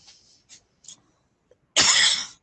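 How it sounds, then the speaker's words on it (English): A few faint short breathy sounds, then one loud harsh hacking cough from a Labrador dog close by, abrupt and raspy. "It's not a COVID cough. It's a Labrador cough."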